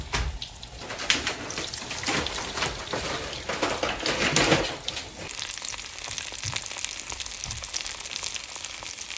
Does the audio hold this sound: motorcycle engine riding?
no